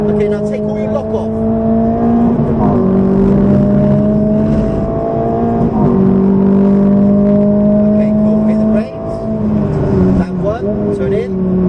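A Ferrari F430 engine drones loudly from inside the car on the Silverstone circuit, rising in pitch through each gear then dropping at the shifts, while an instructor talks over it.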